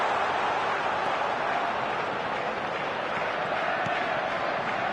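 A stadium crowd roars at a football match: a dense, loud, unbroken wall of voices that holds steady from start to finish.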